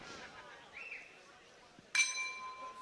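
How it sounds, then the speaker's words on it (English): Opening bell for a 57 kg featherweight semi-final at the IBA 2025 Men's World Boxing Championships in Dubai: a single bright metallic ding rings out and decays, following a quieter stretch of faint voices. "As the opening bell sounds to get this second 57 kilogram featherweight semi-final underway."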